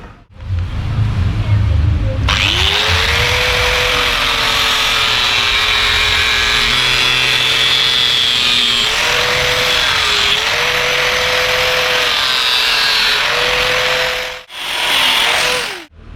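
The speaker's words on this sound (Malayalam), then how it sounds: "ഓക്കെ, കട്ട് ചെയ്യുന്ന വീഡിയോ നമുക്കത് കാണാം." A power tool whines loudly and steadily while cutting a custom tail light piece for a Yamaha FZ motorcycle, its pitch dipping briefly under load, with a short pause before it spins up again.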